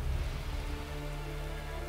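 Rain in the Uncharted 2 video game, a steady wash of falling rain with a low, even hum beneath it. No one speaks.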